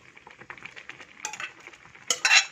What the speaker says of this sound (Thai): แล้วก็คนให้เข้ากัน